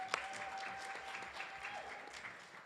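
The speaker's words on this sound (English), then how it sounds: "We should clap for that." Audience applause at a state convention legislative seminar, a faint, steady patter of clapping from a crowd with a slight fade toward the end.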